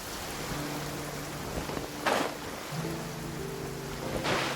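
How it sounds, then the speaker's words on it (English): Steady rain hisses through a Genshin Impact game scene, with a low music drone and brief louder splashes or gusts breaking in twice; no one speaks. "It's raining again?"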